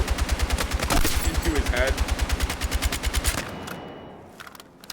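Rapid automatic gunfire from a gun in Battlefield 6, a long continuous burst of evenly spaced shots emptying a whole magazine, loud and close, with someone talking over it before the firing cuts off.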